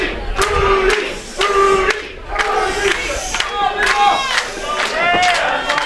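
Loud wrestling arena crowd roars and shouts in rhythmic surges as wrestlers rally the fans, with chanting voices and cheers swelling and falling continuously throughout.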